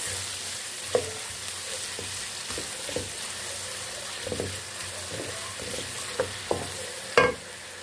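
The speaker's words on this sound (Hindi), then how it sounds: "अब इसमें हम प्याज डालेंगे और प्याज को हमने फ्राई कर लेना है" Steady hiss of onions frying in a pan, with occasional scrapes and knocks of a spoon stirring, close and continuous.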